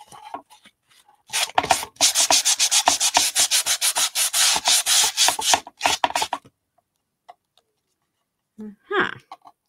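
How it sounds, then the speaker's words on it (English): Sandpaper rubbing along the curved edge of a wooden piece, a fast run of short rasping strokes that starts after a few scattered scrapes, then stops with a couple of faint knocks near the end. "let us see if that is now dry enough for me to sand that edge"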